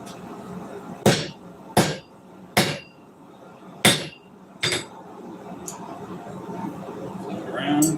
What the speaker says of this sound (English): Just forge the sword. Bust out the big hammer.